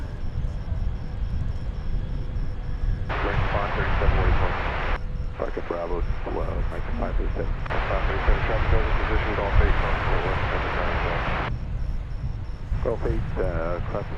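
A Boeing 737-800 jet at DFW Airport gives off a continuous engine whine and rumble beneath a voice talking over it.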